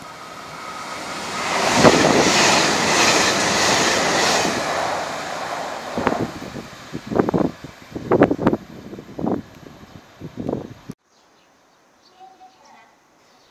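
A down-bound Class 2700 Nanpu limited express, the red Anpanman-liveried train, rushes past with a broad roar, then a run of rhythmic wheel clacks over rail joints before fading to near silence.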